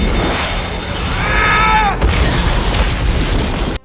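In Halo: Landfall, a Brute hurls an oversized spike grenade that detonates in a loud, booming blast with a rumbling tail, heard close among dense battlefield noise.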